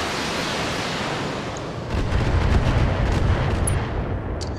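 An inferno artillery strike lands in BattleTech, with steady rushing noise giving way midway to a deep, rumbling barrage of heavy impacts and a couple of faint sharp clicks near the end.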